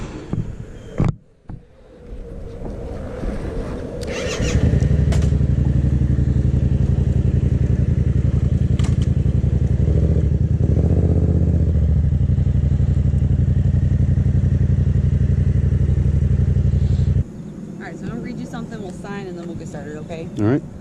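Motorcycle engine during a Georgia motorcycle road test, a steady, loud low-pitched drone that idles, then rumbles strongly for about twelve seconds before easing off, with people talking nearby at the start and end.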